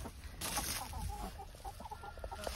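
Chickens cluck and murmur outdoors on a hot day, a busy flock chattering nearby with scattered short calls over rustling and wind noise.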